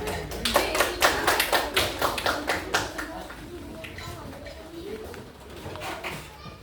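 A group breaks into applause, brisk rhythmic clapping for a few seconds that then thins and fades, leaving faint room noise.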